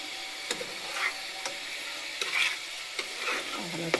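Egg curry being stir-fried in a pan: a soft sizzle runs underneath while a spatula knocks and scrapes at irregular intervals, close by and moderately quiet.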